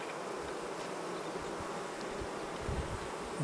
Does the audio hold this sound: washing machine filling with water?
no